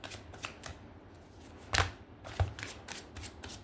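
Tarot cards being shuffled by hand, with soft papery riffles and a couple of louder flutters and slaps in the middle, close and fairly quiet without any speech.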